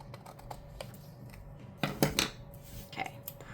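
Scissors trimming a sheet of paper for a planner, a few close crisp snips and rustles with quiet handling noises in between.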